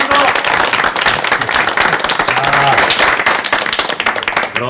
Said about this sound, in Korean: 우리 다 같이 상국인의 가족을 위해서 축하의 박수를 한번 쳐주십시다